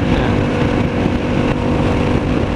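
Yamaha MT-07 inline-twin motorcycle engine running steadily at speed while riding, a loud continuous drone with wind noise and no talk.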